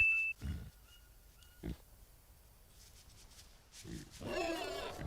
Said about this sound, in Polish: O kurna, to jest dzik.